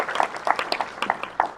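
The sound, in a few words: applause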